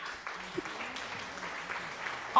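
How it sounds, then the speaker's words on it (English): Light applause patters along with faint voices underneath, ending in a brief louder burst, during a League of Legends match highlight. "All the applause for Pizzy."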